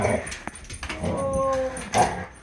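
A dog whimpers and yips in short high whines while chasing a small RC car, with scrabbling and a brief bark-like burst close by.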